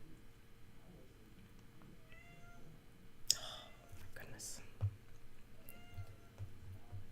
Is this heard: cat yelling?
yes